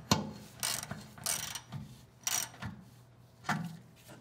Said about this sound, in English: now you can tighten down your transmission mount bolts